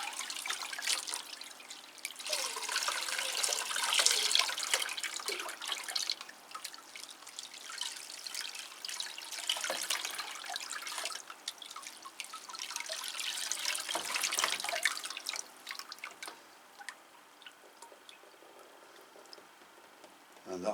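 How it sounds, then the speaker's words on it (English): Water splashes and trickles onto a potted Cattleya orchid in a steady, uneven stream lasting around twenty seconds, with soft drips and a brief lull near the end. "So we'll just water that one in."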